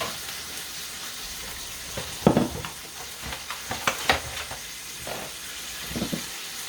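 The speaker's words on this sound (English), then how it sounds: "Let me scramble my eggs or beat them." Eggs being beaten in a bowl for a simple breakfast, a run of quick, irregular clicking strokes against the bowl, fairly close, over a steady sizzle from a pan already cooking.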